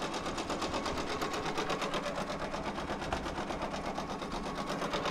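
A machine embroidery unit stitches an in-the-hoop design with a fast, even rhythmic whirring and clatter, faint and continuous throughout.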